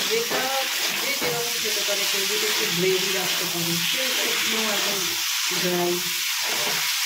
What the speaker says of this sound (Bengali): এটা দিয়ে এবার এটা কষা হবে, কষানোর পর তারপর জল দেবে